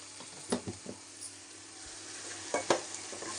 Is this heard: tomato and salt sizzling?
yes